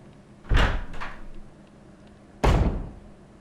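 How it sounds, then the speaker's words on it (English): A locked door in the video game Resident Evil HD gives three heavy wooden clunks: two close together, a pause, then a third, each thud sharp and loud against near silence. "This door at the end of the hall is locked"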